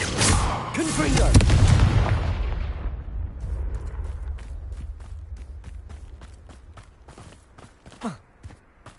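A Confringo spell explosion in Hogwarts Legacy bursts loud and booming at the start, then rumbles and fades into a long decaying tail, followed by quieter scattered game sounds and a short vocal grunt.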